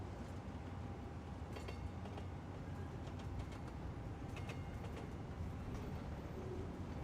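Trains rolling through a busy cargo station in the city-building game Cities Skylines 2, a steady rumbling rail-yard ambience with faint bird chirps, heard alone without talk.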